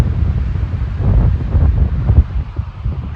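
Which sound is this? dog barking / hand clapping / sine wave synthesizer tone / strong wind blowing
strong wind blowing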